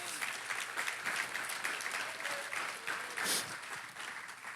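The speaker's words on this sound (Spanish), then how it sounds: "¿Cuánto le dan un aplauso al Padre?" Sustained applause from a church congregation, many hands clapping steadily, with a few voices faintly mixed in.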